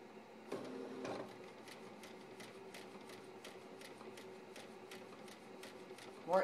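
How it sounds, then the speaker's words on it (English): A nail printer works steadily as it prints art onto fingernails, giving a soft, evenly repeating ticking, mechanical patter over a low hum, with a brief louder clunk near the start and another at the very end. "Now printing your selected art on your nails is what the screen says."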